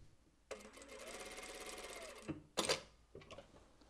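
Sewing machine running close and steady, stitching a dress seam 0.2mm from the folded edge, a continuous whirring hum of about two seconds, then a sharp clack and a few softer mechanical knocks.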